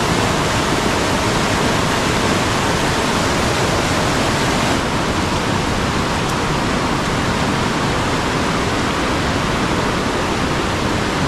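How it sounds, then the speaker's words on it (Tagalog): Swollen stream floodwater rushes after rain, a loud dense unbroken roar of churning water across the full length, with no voices. "Umila na yung ulan mga kaprobinsya, pero patuloy pa rin yung paglaki ng tubig"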